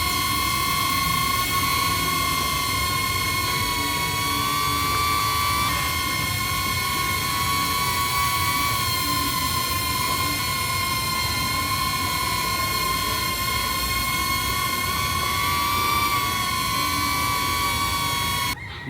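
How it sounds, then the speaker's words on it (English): A DJI Neo drone flies on its stock propellers, giving a loud, steady, high-pitched whine with a constant tone. It holds for about nineteen seconds, close and alone, with no talking. "now we are trying to test the stock propeller of DJI Neo"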